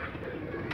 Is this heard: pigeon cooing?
yes